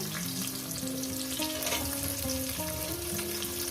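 Chopped onion dropped into hot oil in a pan for a goat meat and potato curry, frying with a steady broadband sizzle and some stirring, with a faint tonal hum running underneath.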